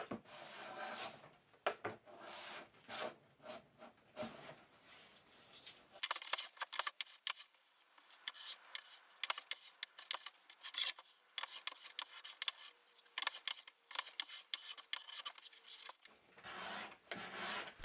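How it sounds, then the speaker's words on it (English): Card scraper drawn across laminated reclaimed hardwood boards to remove leftover glue: close, dry rasping strokes in quick irregular bursts that continue steadily, with no talk. "I start by using a card scraper to remove any remaining glue"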